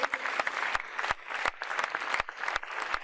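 Audience members clap for a volunteer walking up on stage, a sparse, uneven round of applause with distinct individual claps standing out.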